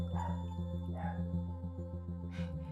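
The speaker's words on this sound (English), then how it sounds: "And the puppy dog barking." Puppy dog barking in a video game, a few short yips spaced apart over a steady droning hum of game background sound.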